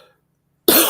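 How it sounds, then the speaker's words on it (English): A single sharp cough bursts out close and loud at the end of a moment of near silence. "sorry, I'm coughing."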